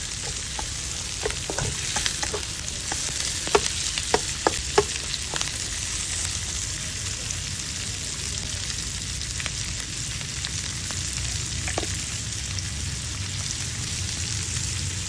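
Beef sizzling and frying in a pan with translucent onions for beef pares, a steady broad hiss with scattered crackles and a few stirring clinks, fairly close and continuous without talk.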